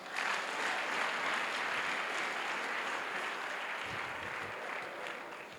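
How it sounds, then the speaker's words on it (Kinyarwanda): Audience clapping at a Golgotha gospel concert, a dense, steady wash of applause from a large crowd sustained throughout, tapering slightly at the end. "Dukomere Imana amashyi."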